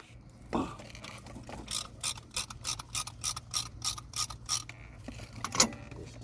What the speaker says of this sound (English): I'm gonna use my handy dandy caliper tool